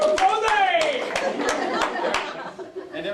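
A roomful of people at a Koala Lou event cheers with whoops and voices while scattered hand claps ring out at an uneven pace; the cheering is loud at first and then fades into chatter.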